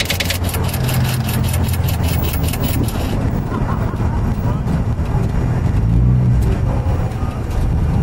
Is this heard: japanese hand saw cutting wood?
no